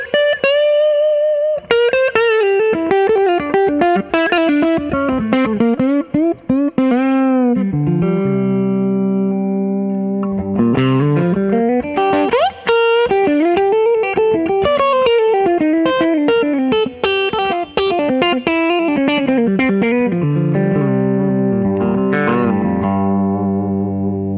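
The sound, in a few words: Gibson electric guitar played through effects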